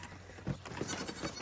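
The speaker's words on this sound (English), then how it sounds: "There's our two baby goats." Two baby goats on a farm bleating at feeding time, a couple of short, faint cries over quiet background rustling.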